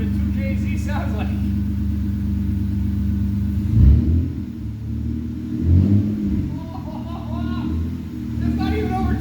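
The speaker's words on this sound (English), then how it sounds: "let's see what a 2JZ sounds like" A Toyota 2JZ engine swapped into a Lexus IS300 rumbles and revs up briefly, a low steady drone with two short swells in engine pitch, loud and close.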